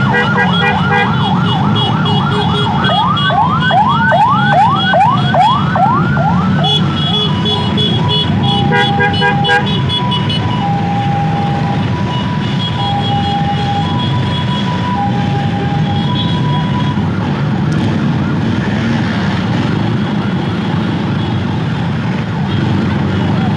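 A loud ambulance siren wails and then switches to a two-tone pattern, continuing over steady rumbling traffic-jam noise with no talk.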